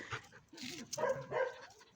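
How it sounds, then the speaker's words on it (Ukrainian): A dog growling, answered by a few soft whines and yips, quiet and close in a domestic yard. "Хтось гарчить."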